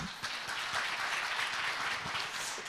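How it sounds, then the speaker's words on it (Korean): An audience at a Korean agricultural and rural development forum applauds to welcome a village office manager to the podium, a soft, steady rush of clapping heard on its own. "박수로 환영해 주시기 바랍니다"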